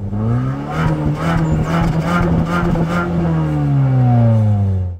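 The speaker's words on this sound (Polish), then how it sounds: "wciskając gaz na postoju samochód będzie wchodził na obroty" A 2023 Mazda CX-5 with the 2.5-litre 194 hp petrol engine is revved while parked, rising and falling through several loud, close bursts of engine speed with no speech.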